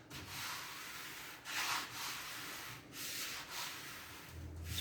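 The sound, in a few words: hand rubbing over putty-shaped car fender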